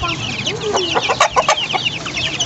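Chickens cluck in short bursts close by, with a few sharp squawks and some background rustling.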